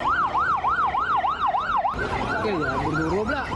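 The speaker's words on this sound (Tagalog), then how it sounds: "wala na halos tigil ang pag-alingaw-ngaw ng mga ambulansya" Ambulance sirens wail near schools in Antique, Philippines, during a mass hospitalization of students and teachers after a chemical odor: one loud, rapid, close siren cycles steadily, then a second siren with a slower sweep cuts in and overlaps.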